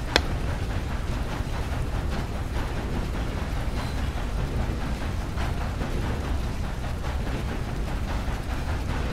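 Steady rain with low rumbling thunder in the video game Red Dead Online, a continuous broadband wash that stays even and moderately loud for the whole stretch, with no voices.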